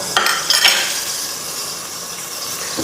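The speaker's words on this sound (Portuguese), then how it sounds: "Você joga o alho primeiro, né? Deixa o alho aqui refogar." Garlic sautés in a pan while being stirred, with a soft continuous sizzle and a few clinks of a utensil against the pan near the start, close up with no talking.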